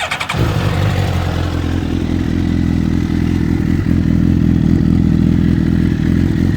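A 2014 Suzuki GSX-R1000 sport motorcycle starts with a short crank and settles into a loud, steady idle with a rough, throbbing exhaust note, close up and without talk.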